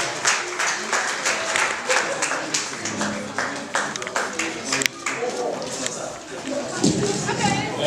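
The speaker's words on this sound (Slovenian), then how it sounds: "Ja, en aplavz, prosim." An audience at a Ljubljana charter ceremony breaks into lively close applause for an award recipient, with bursts of clapping that fade toward the end and some chatter around it.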